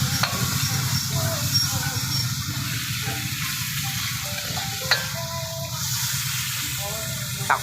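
A pot of mung bean stew with chicken is stirred, with a soft bubbling sizzle and light scraping. A person talks over the cooking sounds for much of the time, and there are a few sharp clinks of a utensil.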